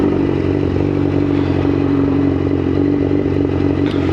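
Motorcycle riding through Birmingham city centre, with a loud, steady engine drone and rumble heard close from the bike throughout, alongside wind buffeting and rattling, with no talk.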